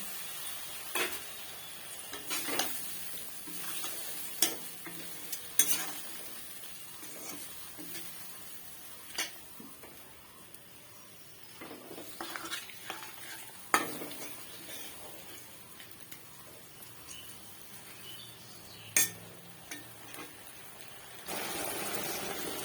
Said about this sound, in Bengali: বেগুন আমি আলাদা করে ভাজবো না, এই মশলার সাথেই ভাজা হয়ে যাবে